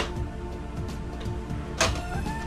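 A 1988 VHS camcorder ejects its tape cassette, a whirring motorized mechanism with repeated ticking gear pulses that ends in a sharp clunk near the end, heard up close.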